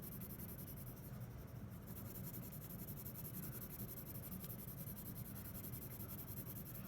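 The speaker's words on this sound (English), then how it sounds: "really push on that pencil, really get that graphite out and onto the paper." A graphite pencil pressed hard against paper while shading, giving a steady, close, continuous scratchy rub with no pauses, alone without voices.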